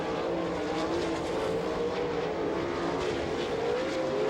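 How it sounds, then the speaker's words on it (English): 410 sprint cars race at Attica in Ohio, with a loud sustained engine roar whose pitch wavers slightly as the cars pass, dense and continuous with no talk. "Here comes Rodney Duncan in car number 22 trying to move up to a transfer spot"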